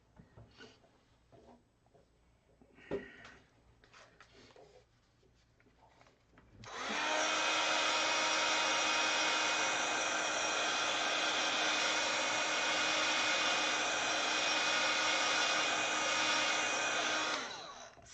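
Hair dryer drying a craft project, switched on after a stretch of quiet rustling and handling, then blowing in a loud, steady whir for about ten seconds before cutting off, close by.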